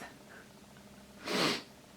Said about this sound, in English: I do apologize for sniffing in my videos or clearing my throat.